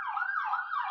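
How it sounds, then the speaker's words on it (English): An ambulance siren wails steadily near a hospital, its pitch rising and falling in a smooth continuous sweep, loud and fairly close, with no voices over it. "I'm sorry for the ambulance siren here."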